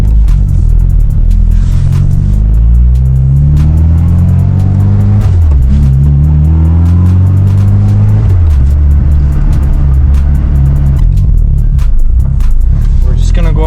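An Acura RSX with a manual gearbox is driven, its engine rising and falling in pitch through the gears with a drop between shifts, loud and close from inside the cabin, with some talk in the car.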